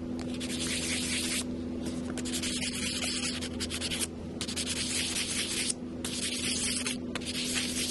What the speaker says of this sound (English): You can hit it with a little bit of sandpaper.